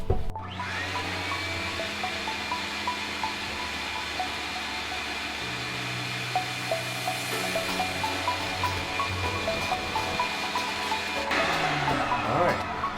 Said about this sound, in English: let's get this vacuum going